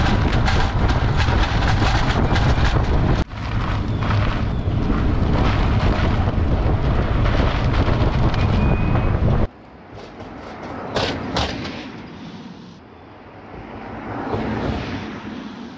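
A Tesla Model 3 fitted with aero wheel covers drives along, giving loud roaring road and wind noise for about nine seconds before cutting to a quieter cabin with softer rumble and occasional knocks.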